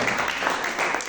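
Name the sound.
church congregation clapping as an offering of applause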